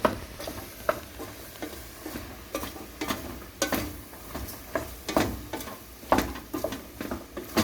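A spoon stirs ingredients coated in butter in a frying pan, scraping and clacking in irregular strokes over a soft sizzle, close by.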